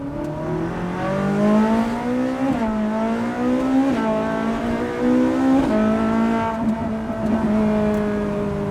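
A Ferrari 458 Challenge Evo race car's engine revs hard and steadily near the microphone, its pitch climbing in several stepped pulls with short dips between shifts. It holds a loud, continuous howl throughout.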